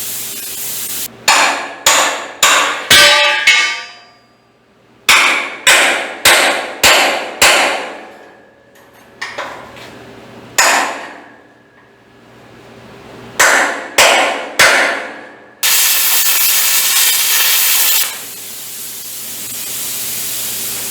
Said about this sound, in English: Where's my chisel? My chisel and my hammer.